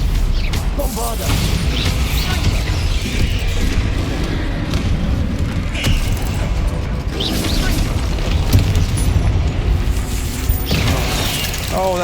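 Bombarda spell blasts and magical combat in the Hogwarts Legacy mountain chamber, a dense, loud, continuous wall of booming impacts and mechanical clatter, with a voice casting spells over the din.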